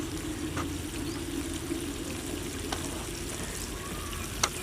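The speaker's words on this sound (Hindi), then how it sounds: "अब जितना शोरबा मुझे चाहिए मैं उतना पानी शामिल कर लूँगा।" Water is poured into a pot of browned beef for a lal mirch shorba, giving a steady close rushing pour over a low sizzle, with a small clink near the end.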